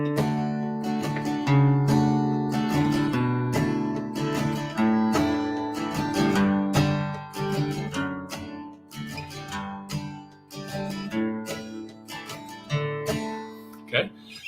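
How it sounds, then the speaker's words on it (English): Acoustic guitar played in a bass strum style, with plucked low bass notes alternating with brushed chord strums in a steady rhythmic pattern, close and clear with natural decay between strokes. "It's all about bass strum or bass plucking."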